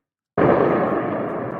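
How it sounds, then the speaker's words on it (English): Sudden loud blast from an air defense system firing over eastern Tehran, bursting out of silence and rolling into a long, fading rumble. "explosions being heard in eastern Tehran as a result of the air defense system operating"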